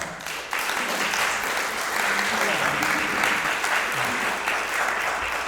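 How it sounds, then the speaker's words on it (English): A round of applause from the audience at a city tree-planting plan update meeting, sustained, moderately loud clapping with a faint murmur of voices underneath. "Let's give these guys a round of applause."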